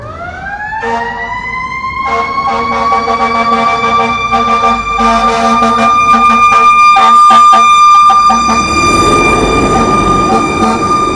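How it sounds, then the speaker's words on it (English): A fire engine's wailing siren sweeps past close by on a road, loud and steady for several seconds, with heavy truck rumble growing underneath as it passes. "there's a fire engine coming"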